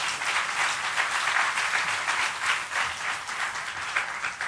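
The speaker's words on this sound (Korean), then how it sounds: "우리 힘찬 박수로 한번" A congregation claps steadily throughout a Sunday church worship service, a dense, even wash of applause at moderate distance with no voices rising above it.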